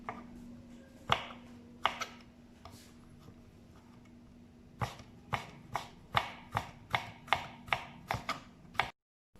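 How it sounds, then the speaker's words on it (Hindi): A knife chops carrots finely on a cutting board: a few scattered strokes at first, then a quick, even run of about a dozen crisp, close chops before the sound stops. "और अब हम गाजर की कटिंग कर रहे हैं।"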